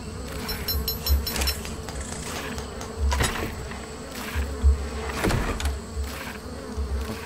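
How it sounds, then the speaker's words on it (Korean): Flies buzz close by in the video game Ark Survival Evolved, a continuous droning hum that swells and fades as the insects circle near, with a few sharper clicks and thumps mixed in. "파리들 뭐야 얘네?"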